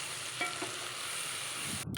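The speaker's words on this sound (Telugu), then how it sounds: "వేసుకొని లో ఫ్లేమ్లోనే పెట్టి ఇలా కలుపుతూ ఉండాలి" Brinjal curry with sesame powder and chilli powder stirred in a pan over a low flame, a continuous close sizzle with soft scraping strokes of the spoon running throughout, no voices.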